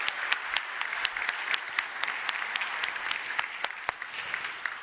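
A church congregation applauding, dense continuous clapping with distinct individual claps popping out of the crowd noise, steady and moderately loud.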